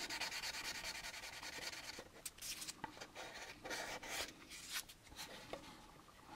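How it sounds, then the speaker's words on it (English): Sandpaper smoothing the surface of an AMT U.S.S. Enterprise plastic model kit, with close, quiet rubbing strokes in an uneven back-and-forth rhythm. "if you got some decent sandpaper, you should be able to smooth this out okay"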